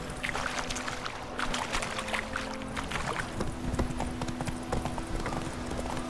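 Horse hooves clip-clop at a steady trot as the mount sets off in The Witcher 3, close and continuous over a low outdoor ambience.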